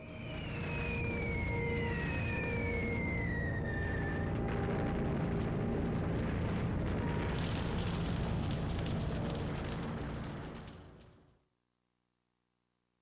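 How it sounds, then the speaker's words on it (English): A German air raid on Warsaw fills the air with a dense, loud roar of exploding bombs and rumbling destruction, while descending siren-like wails sound early on before everything cuts abruptly to silence. "The Luftwaffe bombs Warsaw at will."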